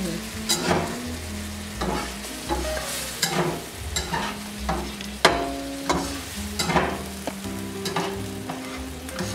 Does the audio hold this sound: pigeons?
no